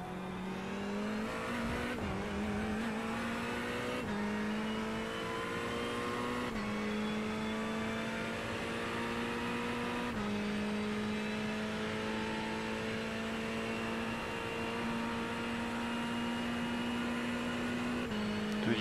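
An iRacing race car screams along under hard braking, its engine note dropping through a series of quick downshifts in repeated steps, loud and close with no voices.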